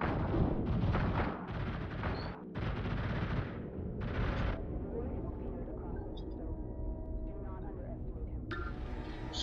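Bursts of Boltor gunfire crackle in Warframe in rapid repeating volleys, with a brief pause between strings of shots, over a dense battle din while someone talks.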